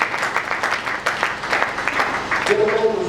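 A church congregation applauds loudly with rapid, uneven clapping, and a voice rises over the claps near the end.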